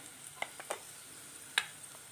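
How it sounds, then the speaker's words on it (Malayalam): Chilli powder and coriander powder stirred in a pan while making a Malayalam fish curry with ambazhanga, giving a few quiet, sparse scrapes and soft clicks spaced apart, with no talk. "എല്ലാം ഒന്ന് ഇളക്കി കൂട്ടി പച്ചമണമൊക്കെ ഒന്ന് മാറണം"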